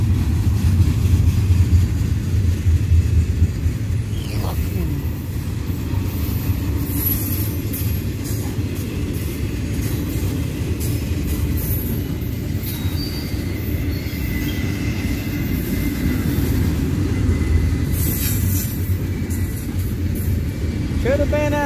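A Union Pacific intermodal freight train rolls past continuously for the full length, a loud, steady rumble of railcars with wheel squeal and clatter, close by and alone without speech.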